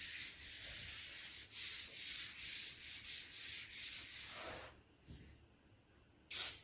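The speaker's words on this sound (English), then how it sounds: "So get my eraser." A classroom eraser rubs on a board in a string of rhythmic back-and-forth strokes for about four seconds, close and fairly loud. Quieter scraping follows, then one sharp final swipe, with no talking.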